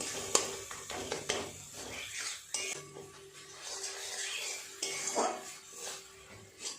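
Prawn filling masala being stirred in a pan, with soft spatula scrapes and occasional clinks over a gentle sizzle, close but fairly quiet.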